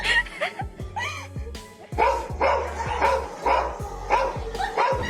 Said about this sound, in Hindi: अब यहाँ पर इनका कुत्ता बहुत ज्यादा भौंक रहा था